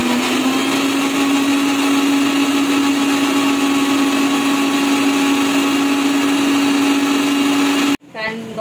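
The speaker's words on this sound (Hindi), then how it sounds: "दही जाए ग्राइंडर" A mixer grinder blends curd with garlic, a loud, steady electric whine with a strong motor hum running continuously for about eight seconds, then cutting off abruptly into brief quiet.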